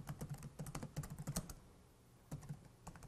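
Quick bursts of keystrokes on a computer keyboard while writing C++ code, close and quiet, with a short pause before another run of taps.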